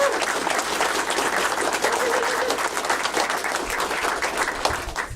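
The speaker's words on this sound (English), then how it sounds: "Big hand of applause for this guy." A hall full of people at a Commodore computer users' group anniversary gathering applauds loudly and steadily, dense clapping sustained throughout without a break.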